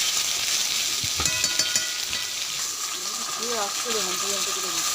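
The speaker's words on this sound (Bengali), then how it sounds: "তেল দিয়ে দিলাম কড়াইতে, এরপরে তেজপাতা, শুকনো লঙ্কা, জিরে ফোড়ন দিয়ে পেঁয়াজ দিয়ে দিলাম" Onions, bay leaf, dried chillies and cumin sizzle in oil in a wok for chicken chorchori, a steady frying hiss with scraping stirs and a few brief clinks, plus some faint tonal chirps late on.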